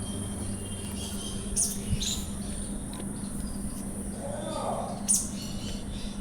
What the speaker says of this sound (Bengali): আজকেও আপনাদের জেপি বদ্রি দেখাচ্ছি মাত্র দু হাজার টাকা জোড়ায় এই সুন্দর জেপি বদ্রিগুলো পেয়ে যাবেন